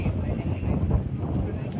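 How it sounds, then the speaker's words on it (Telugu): Strong outdoor wind during kite flying buffets the microphone with a continuous low, rumbling roar that stays loud throughout the short stretch. "గాలి అయితే వస్తుంది, చాలా గట్టిగా ఉంది గాలి అయితే ఈరోజు"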